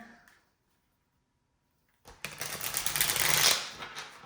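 A deck of cards is shuffled in one quick riffling burst lasting about two seconds, close and fairly loud, after a near-silent pause.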